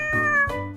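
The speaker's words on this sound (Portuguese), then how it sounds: "Oh, é tão giro. Gato tão bonito." A cat meows twice in quick succession, close and clear, with a tonal, slightly drawn-out cry.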